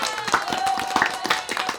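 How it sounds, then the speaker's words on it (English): Hands clap in a round of applause on a podcast set: a quick run of sharp, close claps at a fairly even rhythm, lasting about two seconds. "Round of applause for that."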